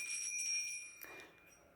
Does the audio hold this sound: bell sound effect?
yes